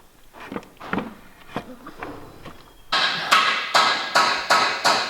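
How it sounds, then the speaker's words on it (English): Old cedar boards from a neighbour's renovation, being cleared of nails: a few scattered knocks and scrapes, then a run of five or six sharp, evenly spaced wooden bangs, fairly close. "pulling out these nails out of all these cedar boards we got from our neighbour"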